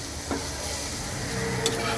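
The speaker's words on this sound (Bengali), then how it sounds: "এটাকে আমি মিনিমাম 4 থেকে 5 মিনিট ভাজবো।" Turmeric and coriander powder sizzle and fry in a pan, a steady hiss broken by a few soft stirring scrapes.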